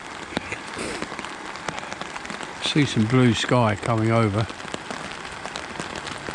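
Steady rain patters on a surface beside a roach fishing swim by a river or lake, a continuous hiss throughout with someone talking briefly in the middle.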